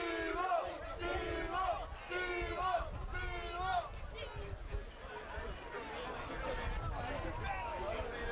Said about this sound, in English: Crowd chanting something a second ago